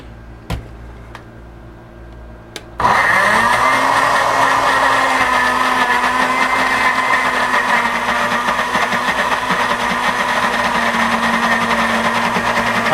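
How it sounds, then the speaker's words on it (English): Blender blending olive tapenade with oregano and extra virgin olive oil, a few light clicks, then the motor kicks on loud and runs as a steady high whirring roar to the end. "I'm blending."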